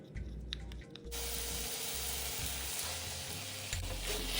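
A few quiet clicks give way to a sudden loud hiss as cornstarch slurry hits the hot prawn and taro ring filling in a wok, and the sizzle then holds steady under brisk stir-frying.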